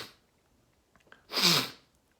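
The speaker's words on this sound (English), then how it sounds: "There's the sneeze." A single sneeze bursts out close and fairly loud after a couple of small breaths, standing alone in an otherwise quiet room.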